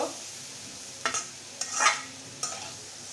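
Bitter gourd, tomato and egg are stirred in a pan with a few distinct scraping strokes of the spoon against the metal, over a faint sizzle of frying.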